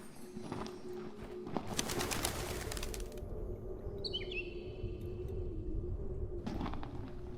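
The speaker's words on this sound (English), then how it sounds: "The little bird won't let you near it." Bird sounds in the Colossal Cave game: a cooing, dove-like call over a low steady hum, a flurry of wing flaps, then a few quick high chirps, near and fairly quiet.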